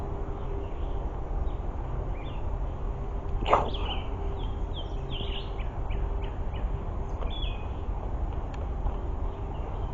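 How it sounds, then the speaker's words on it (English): Birds calling from the trees along a forest trail at an East Texas arboretum, several short chirps and whistles scattered through the clip over a steady background hiss, with one sharper call near the middle. "Because you can hear the birds, but you can't see them."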